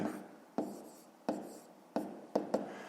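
A hand writes out a fifth-grade math solution on paper, with soft scratchy pen strokes broken by five sharp taps as the pen meets the page, close and quiet with no talk.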